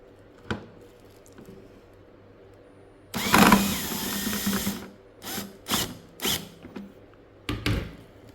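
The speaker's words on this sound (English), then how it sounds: "what we'll do now is we will tighten this back in place" A ratchet tightens the headlight assembly on a Mitsubishi Inspira/Lancer. After a few quiet clicks, a loud run of rapid clicking plays, followed by several shorter ratcheting bursts close to the microphone.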